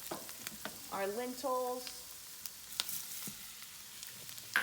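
Garlic frying in a pot for dahl as sweet potatoes and lentils are added, a steady soft sizzle with stirring scrapes and clinks, while a person briefly speaks over it.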